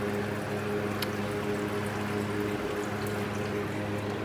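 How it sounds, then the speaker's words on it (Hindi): Water draining out of an air cooler, a steady pouring and rushing wash that holds at an even level from start to finish. "पानी निकालने का सिस्टम, ये देखें पानी का लेवल नीचे जा रहा"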